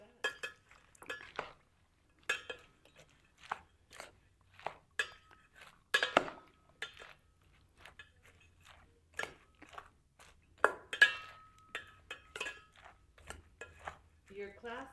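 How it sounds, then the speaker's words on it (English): A utensil stirs a dish of food, giving irregular clinks and scrapes against the pot, close and distinct, with quiet gaps between strokes. "And give it a stir, and I will let it do its magic."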